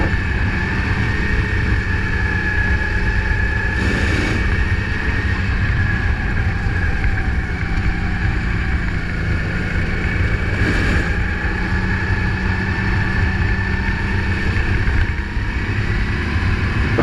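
A go-kart engine buzzes continuously during a qualifying lap on an anticlockwise track at Grimaud, with steady wind and vehicle roar and slight swells as the kart passes through corners.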